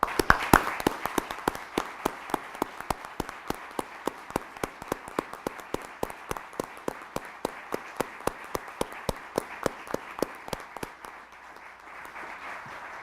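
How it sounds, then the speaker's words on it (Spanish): Applause at a formal ceremony, steady rhythmic clapping that sounds like a few nearby hands dominating a wider crowd, continuing for about eleven seconds before fading out. "para quien pido un caluroso aplauso"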